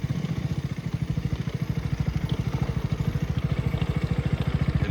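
A KTM RC motorcycle engine runs with a steady, rapid, evenly pulsing throb, loud and close, on a sunset ride near Almatti Dam.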